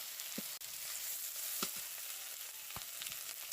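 Garlic and chopped tomato fry in a pan with an even, steady sizzle and hiss, joined by a few soft clinks of stirring, close up with no voices.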